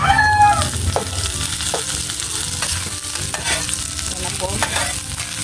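Chopped onions sizzle in hot oil in a pan while being stirred for a squid dish, with steady crackling and scraping clicks of the utensil throughout and a few brief spoken words.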